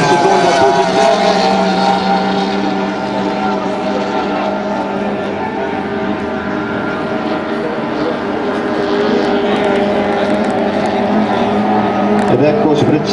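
A racing motorboat powered by a Mercury engine passes during a 2002 boat race in Cremona, a loud continuous high engine drone close by, with a commentator talking over it.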